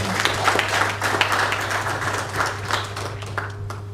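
Audience applause at a mobile and disruptive technology forum: steady, dense clapping from a seated crowd in a hall, continuous and fairly loud throughout, with a low electrical hum underneath.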